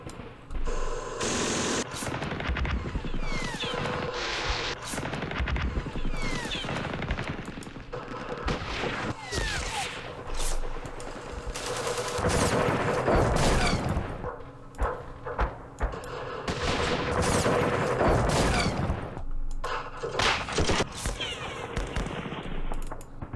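Gunfire in a Vietnam War strategy game set in the Battle of Hue: repeated bursts of shots and rattling automatic fire at moderate volume, with shifting intensity across the whole stretch.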